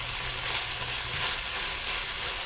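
Shepherd's pie filling dusted with flour sizzles steadily in a hot pan, a close, even frying hiss with faint stirring and no voices.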